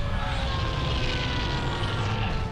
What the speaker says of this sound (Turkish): Helikopterler geçiyor.